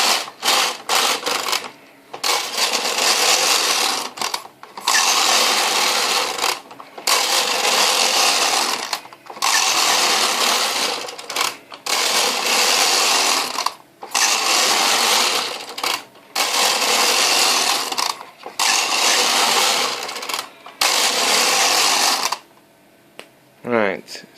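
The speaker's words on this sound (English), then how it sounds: "So I'll just knit a few rows and then take this off the machine." A Bond knitting machine carriage is swept back and forth across rows of lace, giving a series of loud rasping, clattering passes roughly two seconds each, separated by short pauses, close up with no talk.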